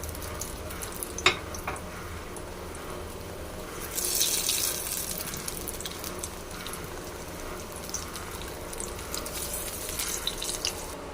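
Eggplant slices fry in hot oil with a soft, steady crackling sizzle at low volume, swelling briefly in intensity and dotted with a few sharp pops.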